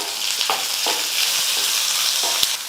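Chopped onion sizzling in a pan with chillies and curry leaves, a loud continuous frying hiss with a few soft stirring knocks, close up and with no talking.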